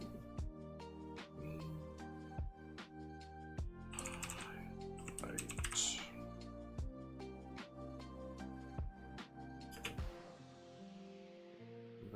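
Rapid computer keyboard typing in bursts of sharp clicks, close and fairly loud, over steady tonal background music, with a brief voice in the middle.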